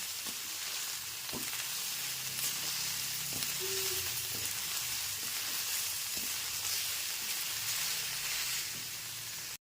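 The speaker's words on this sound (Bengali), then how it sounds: "গ্যাসের ফ্লেমটা মিডিয়ামে রেখে এক থেকে দেড় মিনিট ধরে সয়াবিনগুলোকে হালকা করে ভেজে নিচ্ছি" Soybean chunks fry lightly in a pan over a medium gas flame, making a continuous close crackling sizzle for several seconds, with occasional scrapes and taps from a spatula; no talking.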